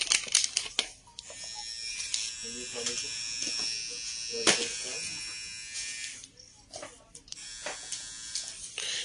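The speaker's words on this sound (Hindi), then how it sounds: "ये आ गया जनाबे वाला ट्रिमर," An electric hair trimmer buzzes in short bursts with a high whine, switching on and off, while crinkling handling noises and a few voice sounds occur nearby.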